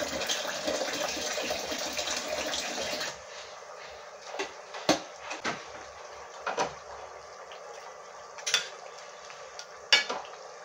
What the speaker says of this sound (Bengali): ঝোলটা ফুটে গেছে, আমি ভেজে রাখা মাছগুলো দিয়ে দেবো।